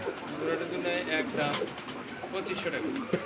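Imported pigeons coo softly and steadily at a bird market, their low murmuring calls overlapping close by while people talk throughout.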